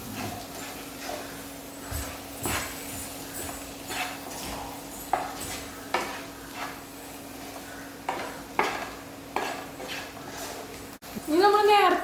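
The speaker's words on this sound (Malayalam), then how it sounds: "ഇനി നമുക്ക് നന്നായിട്ട് ഇളക്കാം." Fried rice with pepper powder being stirred in a pan, repeated metallic clinks and scrapes of a ladle against the pan at an uneven pace, with a voice talking and a short shrill squeak near the end.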